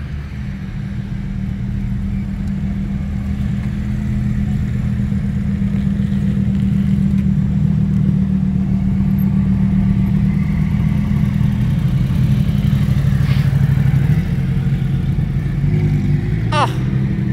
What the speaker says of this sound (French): Revoilà la Huracan Evo.